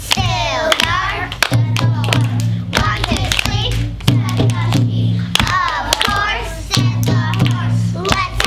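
Group of first grade children clapping together in a steady rhythmic pattern, many sharp claps in repeated phrases with young voices chanting along and some background crowd noise.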